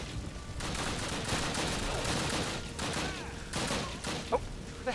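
Battle gunfire in the video game Call of Duty: United Offensive, with repeated bursts of rifle and machine-gun shots crackling at moderate loudness through a steady din of combat.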